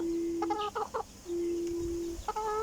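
Backyard chickens in a small coop give several short clucks and calls in quick bursts, close by, over a steady background hum.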